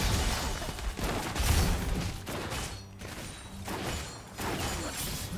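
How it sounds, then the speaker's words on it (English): A turret crumbles and blows apart in League of Legends with several heavy crashing bursts of explosive debris in quick succession, loud and close, separated by brief dips in the noise. "Red team's turret has been destroyed."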